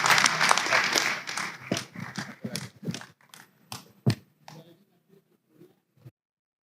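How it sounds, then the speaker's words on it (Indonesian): Applause for the winners at the inauguration of a large Hindu temple in Indonesia: dense clapping starts loud, then thins into scattered individual claps and fades out to silence. "tepuk tangan untuk para pemenang"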